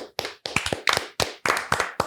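Sharp hand claps in a loose, uneven rhythm, about eight to ten close, loud strikes from someone on a radio show during a spelling bee game, with no talk over them.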